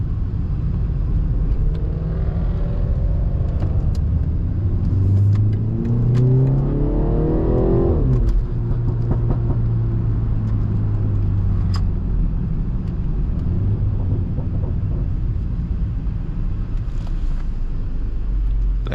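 A four-cylinder BMW 330i tuned to 340 hp pulls hard from inside the cabin, its engine note rising steadily through about eight seconds before the revs drop and a steady cruising drone with low rumble carries on to the end.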